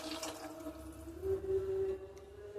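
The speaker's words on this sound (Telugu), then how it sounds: "వాటర్ పోసారండి" Water poured into a cooking pot while mint rice is being made, a steady, moderately loud liquid stream with a faint ringing tone that runs for a couple of seconds.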